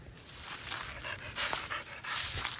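A dog pants and whimpers close by in quick, breathy bursts with faint whining, no talking.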